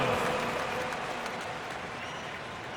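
Crowd applause from an NBA 2K2 basketball game between the Los Angeles Lakers and the Toronto Raptors breaks out loudly at first and then fades slightly over a few seconds.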